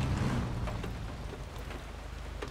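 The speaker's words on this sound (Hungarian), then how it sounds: "kopog az eső" In the truck-driving video game SnowRunner, rain patters steadily on a truck heard from the cab, a dense even hiss with a low rumble that eases after the first half second.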